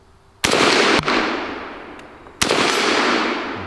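Two sharp, loud M1 Carbine rifle shots fired outdoors at targets such as a red 2-liter bottle, each crack trailing into a long, fading echo, with a faint extra snap shortly after the first.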